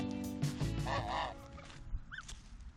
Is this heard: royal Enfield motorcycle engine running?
no